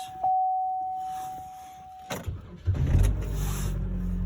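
A car engine is cranked and started after a steady warning chime, then settles into a low, close idle to warm up, and no one speaks.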